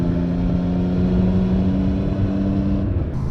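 A Triumph Trident 660 motorcycle engine holds a steady, throaty drone with a faint rise in revs, moderately loud and fairly close, then cuts off abruptly at the end, no talking.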